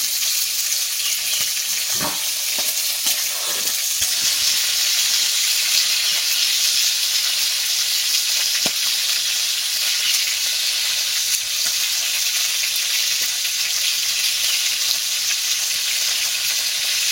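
Fish frying in a pan makes a loud, continuous, close sizzle and hiss, with a few brief clatters near the start and no speech.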